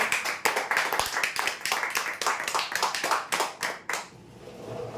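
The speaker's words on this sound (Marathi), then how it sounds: "जोरदार टाळ्या उद्यासाठी" An audience at a prize-draw event claps, a close, loud run of rhythmic hand claps that stops abruptly after about four seconds, leaving faint room noise.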